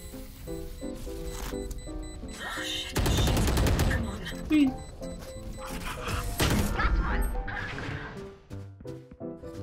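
Shotgun fire in a team shooter video game, with dense bursts of loud blasts and rapid gunfire layered over game music and effects, while players shout and talk excitedly throughout.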